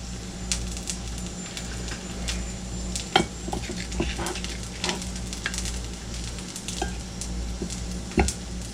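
A flipped New York strip steak sizzles in a pan alongside browning onions, giving a steady close crackle with occasional utensil clinks and a sharp clack, no talking.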